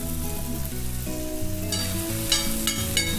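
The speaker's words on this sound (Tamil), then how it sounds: "ஸோ இந்த வெங்காயமும் கருவேப்பிலையும் கொஞ்சம் வதங்கட்டும்" Sliced onions and curry leaves sauté on an iron tawa, a steady hiss of frying heard beneath louder melodic background music throughout.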